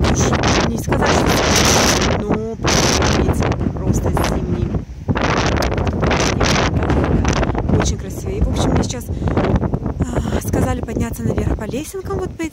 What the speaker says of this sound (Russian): ветер прям толкает